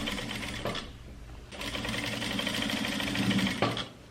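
Sewing machine stitching a seam on a puffed dress sleeve, close rapid mechanical chatter in two bursts separated by a short pause, with no talk.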